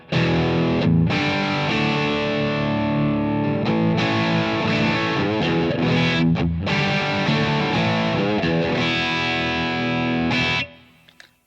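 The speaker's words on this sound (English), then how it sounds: "On to the Boss DS1 distortion." A heavily distorted electric guitar played through a Boss DS-1 distortion pedal plays a riff of chords and single notes, loud and saturated, then cuts off and rings out at the end.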